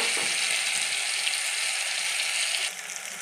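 Whole cumin, ginger paste and chili powder sizzle steadily in hot oil while potol dorma cooks. The frying is close and loud, a constant crackling hiss that eases slightly near the end.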